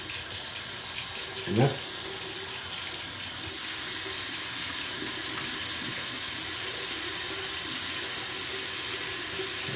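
Hot water runs steadily from a tap into a sink, a constant hiss that grows louder partway through and continues to the end, with a brief voice near the start.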